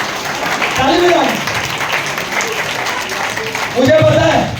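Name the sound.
audience applause at a seminar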